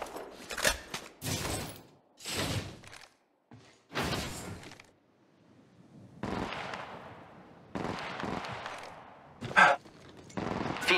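Apex Legends Mobile gunfire rings out in sharp, loud bursts, single shots and short rapid volleys separated by brief gaps, with no talking.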